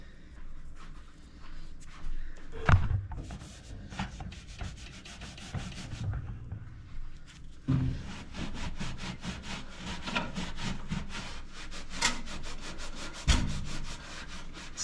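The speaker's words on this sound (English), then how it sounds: "It's gonna be a lot of scrubbing." Scrubbing a toaster oven with a paste of baking soda and vinegar, a continuous rasping, rubbing sound in rapid back-and-forth strokes with a few louder knocks, close and alone.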